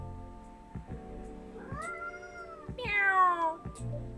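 A cat in Coffee Talk 2 gives a few soft meows, the last one rising and louder, over a gentle sustained musical backdrop.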